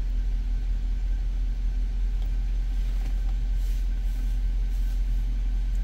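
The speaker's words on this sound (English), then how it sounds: "Car is running." A 2007 Mercedes-Benz S550 with an ABS and ESP fault, its engine running at a steady low idle, a constant rumble and hum heard close up with no voices.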